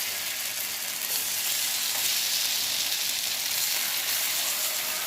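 Pieces frying in hot oil in a pan, a loud continuous crackling sizzle that stays steady from start to finish, with no voices.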